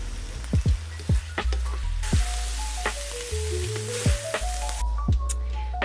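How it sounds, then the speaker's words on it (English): Pork and sauerkraut stir-fry in a pan with a continuous sizzle, broken by repeated short knocks and scrapes of stirring, close up, over a low background hum and with no speech. "Finally, add sauerkraut. Continue stir until sauerkraut is totally soaked up flavor"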